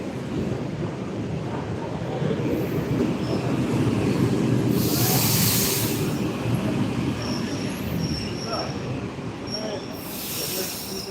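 Steady low rumble of an older Moscow subway train in motion, with rattling wheels and faint high squeals, loud and continuous throughout.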